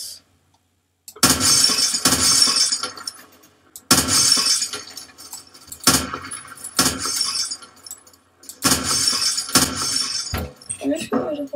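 Windows are shot out in a video game, each gunshot followed by a burst of shattering glass and tinkling shards, repeated several times at irregular intervals with a brief silence at the start.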